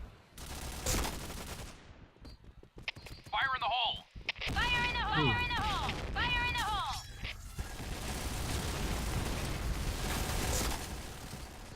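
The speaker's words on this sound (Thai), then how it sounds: "ระเบิดมาอีกอะ" Gunfire and explosions from the PointBlank shooter video game crackle in bursts, with loud blasts and sharp game effects, while players talk excitedly over the action.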